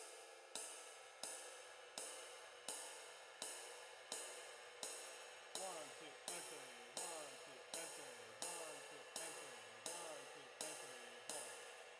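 Jazz ride cymbal playing a steady dotted-quarter pattern across a 3/4 groove, each shimmering stroke repeating evenly with a bright wash over a faint bass line, up close and alone.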